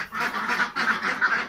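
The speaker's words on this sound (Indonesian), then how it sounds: "Ini bebek isi 25 ekor" Ducks packed in a coop, a colony of about 25 birds, quack and chatter continuously in a loud, dense overlapping chorus with rhythmic swells, close by and with no voices.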